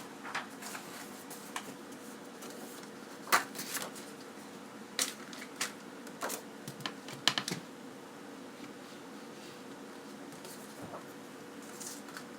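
Thick cardstock sheet being trimmed to 10.5 inches on a paper trimmer for a card box, heard as a series of soft, close clicks and scraping cuts at irregular intervals over a quiet background, with no talking.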